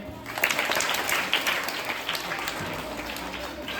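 Schoolchildren clapping together in a crowd at a school club inauguration event, a dense, steady burst of applause lasting throughout with some voices mixed in.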